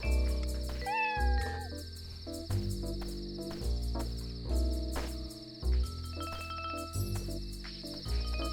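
A cat meows in the video game Dave the Diver, with short mewing calls near the start over loud, continuous synthesized game music and chiming effects.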